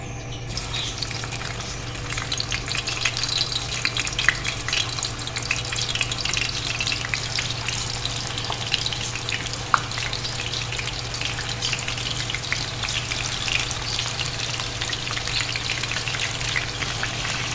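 Mutton kebab sticks shallow fry in a little oil over a low flame, giving a steady, even sizzle and crackle throughout with no talk and only a couple of faint clicks.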